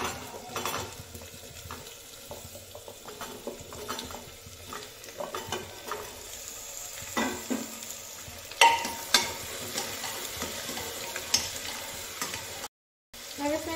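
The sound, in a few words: chopped potato and jackfruit frying in a pan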